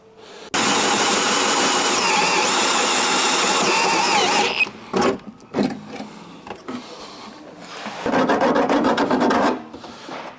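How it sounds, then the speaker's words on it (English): Harsh metallic rasping of a drilled hole being deburred in a Land Rover Discovery 3 door, a long steady grind followed by short bursts and a second rough stretch. "I'm just deburring that hole a little bit so I don't hurt myself."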